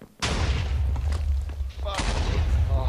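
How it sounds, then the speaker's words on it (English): A TNT cannon fires in Minecraft, giving two sharp, booming blasts close together, each with a rumbling tail, while players' voices are mixed in. "they're firing the TNT cannon!"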